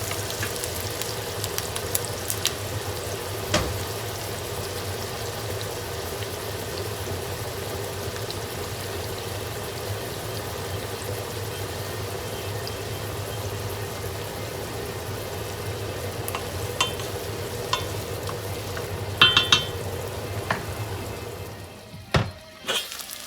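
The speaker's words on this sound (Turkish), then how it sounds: "soğanımı kavurmaya başladım. Tereyağı ve sıvı yağını tavaya aldım." Steady sizzling of onions frying in butter and oil in a pan, a continuous crackling hiss with occasional clinks and stirring sounds, no talking.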